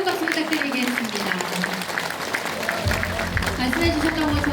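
Audience applause fills a university hall at a book launch after a governor's presentation, a steady, dense clatter of many hands under a talking voice and tonal background music.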